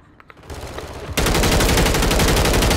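Gunfire in the Call of Duty video game: a few faint pops at first, then a sudden loud, sustained burst of rapid automatic fire that runs to the end.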